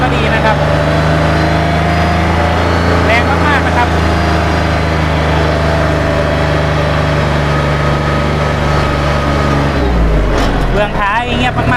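Kubota L4018 four-wheel-drive tractor from 2018, three-cylinder diesel engine running steadily at a loud, close idle throughout, with a shift in engine tone near the end while someone talks over it.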